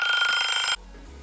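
An alarm clock ringing as a sample in a dubstep track: a rapid, bright electronic trill that sounds for most of a second and then cuts off abruptly into a low bass tone.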